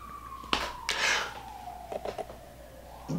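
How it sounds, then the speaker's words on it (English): A distant siren wail in Los Angeles glides slowly downward in pitch, with a few sharp clicks and taps nearby. "The sirens, okay?"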